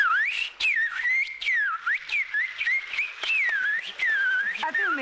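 A person whistles a wavering, melodic tune up close, the notes sliding up and down in short phrases with brief pauses between them, clear and fairly loud with no talking.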